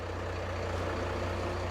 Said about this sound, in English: engage the pump